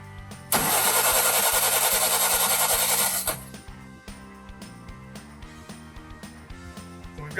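A Willys Jeep engine cranks loudly with a steady starter whir during a compression test on cylinder 4, then cuts off, leaving quieter mechanical ticking and small knocks.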